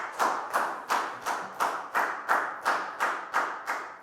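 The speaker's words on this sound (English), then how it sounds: "Big round of applause for Lakgao" A Year 4 math class claps in unison for a student named Lakgao, about nine sharp, evenly spaced claps in a steady rhythm, close and fairly loud, with no voices.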